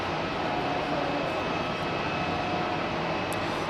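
A Lufthansa airliner at Hamburg Airport produces a steady, moderately distant jet engine roar with a thin high whine, continuous and unbroken for a few seconds.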